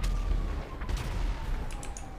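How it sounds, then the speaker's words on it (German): Gunfire in GTA roleplay: a few sharp shots crack over a constant rumbling game soundscape, loud and close, with a quick cluster of bursts near the end. "Da unten sind noch dicke Schüsse."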